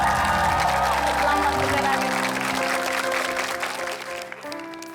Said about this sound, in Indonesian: Boleh tepuk tangan untuk Master Lambat.